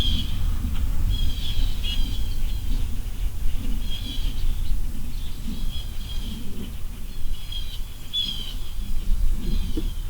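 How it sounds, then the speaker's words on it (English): Birds chirp and call repeatedly across a peaceful backyard, their bright short notes recurring throughout over a steady low rumble of outdoor ambience. "all you hear are birds."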